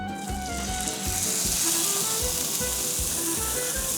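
Pork sizzling and frying in a hot pan, a steady loud crackling hiss with popping bursts that continues throughout without talk.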